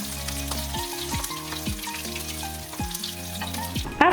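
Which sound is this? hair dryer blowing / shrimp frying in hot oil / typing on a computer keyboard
shrimp frying in hot oil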